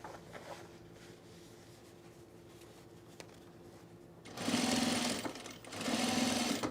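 A sewing machine stitching a welt box on cargo shorts, running in two steady bursts of rapid whirring after a quiet stretch of faint handling, close and fairly loud.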